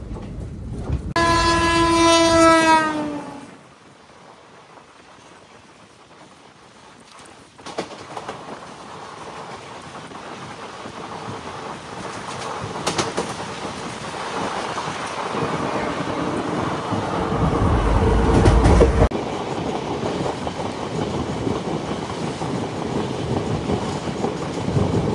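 A passenger train on the Araku–Bangalore line sounds a loud, rising horn blast at the start, then rumbles along steadily with a dense, continuous roar and faint wheel clatter that swells toward the middle.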